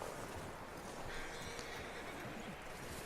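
A horse in the snowy Red Dead Redemption 2 game world whinnies and stamps, with faint hoof clops over a constant windy background hiss, quiet and somewhat distant.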